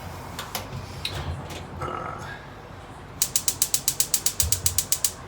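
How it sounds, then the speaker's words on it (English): An oven knob is turned to switch the oven on, producing a rapid, even series of about fifteen crisp ratcheting clicks, close and clear, after some quieter handling noise. "let me turn the oven on"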